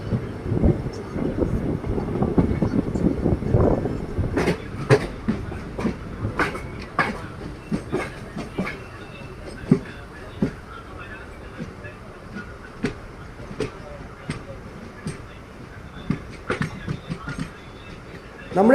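An intercity train on the Palakkad line, running between Palakkad and Ottapalam stations in Kerala: a steady rolling rumble with repeated sharp clickety-clack wheel beats at uneven intervals, heard from on board.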